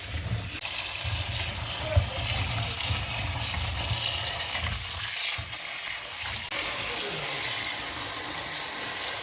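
Water gushes and splashes steadily into a container of rice for soaking, a broad continuous rush with a few small knocks, nearby and without talking.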